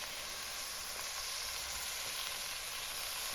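A burger frying on a rocket stove gives a steady, close, bright sizzle that holds evenly throughout with no voices.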